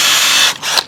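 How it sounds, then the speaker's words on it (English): Drill boring pilot holes into a wooden board for a garden grow bed: a loud, steady whir close by, then a brief dip and a second short burst as the bit cuts through. "I'm going to do is go ahead and put a couple of holes in this board"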